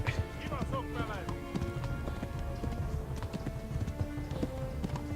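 A horse gallops in the video game Kingdom Come: Deliverance, giving quick, steady hoofbeats at moderate loudness under ongoing speech.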